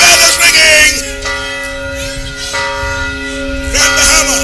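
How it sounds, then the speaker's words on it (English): A church-type bell rings out loudly several times at an outdoor political rally opening in West End, Grand Bahama, its sustained tones overlapping with crowd noise. "We have a bell. The bell is ringing."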